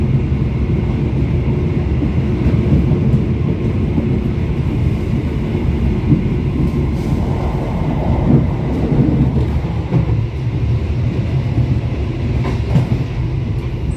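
The KA Argo Bromo Anggrek passenger train rolls into Cirebon Perujakan station, a loud continuous rumble of wheels on rail with faint clicking joints and wind buffeting, no voices.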